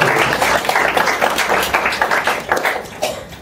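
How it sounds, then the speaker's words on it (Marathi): Audience applause at a staff felicitation ceremony in Amravati: dense, steady clapping from a crowd that sustains loudly throughout with scattered sharper claps, no voices standing out. "त्यांचा आपण एकदा जोरदार टाळ्या वाजवून"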